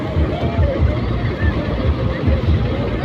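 Many motor trawlers crowd the river at a boat race, their engines a dense low rumble mixed with a large crowd's babble and a voice talking close by.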